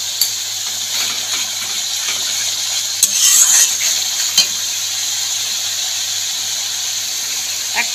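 Spice paste for a Bengali parshe fish tel jhal curry sizzles steadily in hot oil, with occasional scrapes and taps of a spoon stirring against the pan, close and continuous.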